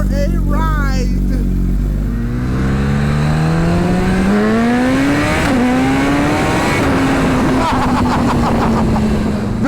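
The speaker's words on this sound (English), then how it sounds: "I'm going to hop on this bike and go for a ride" A Suzuki Hayabusa with a built 1600cc stroker engine, ridden and running loud and close throughout, revving up and shifting through gears with rising and falling engine tones. Someone talks over the opening moments.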